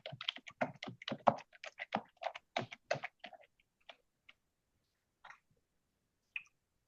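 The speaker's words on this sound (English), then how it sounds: "She's typing." Quick bursts of computer keyboard typing, a dense run of close clicks for about three seconds, then a few scattered isolated taps trailing off into quiet.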